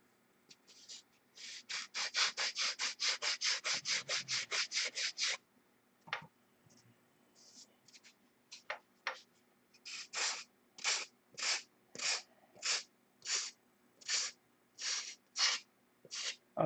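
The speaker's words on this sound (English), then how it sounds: "And you just sand it down until it's flush." Sandpaper rubs a foam wing rib buck flush in a homebuilt-aircraft workshop, first a fast run of about twenty quick close strokes, then a pause with scattered scrapes, then slower, evenly spaced rasping strokes.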